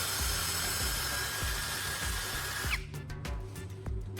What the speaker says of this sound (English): Using my drill, I'm carefully making a hole right through the center of the wooden piece.